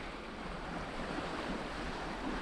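Sailing yacht under full sail running through calm, flat water in a 10 to 15 knot breeze at about 7 knots, giving a steady wash of water and wind rushing past close to the microphone, with no talking.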